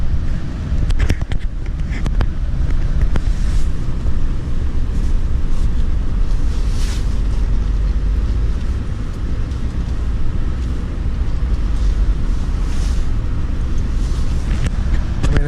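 A 2019 Chevy Silverado Midnight edition pickup truck heard from inside while driving, with a steady loud road and engine rumble plus wind noise throughout and no talking.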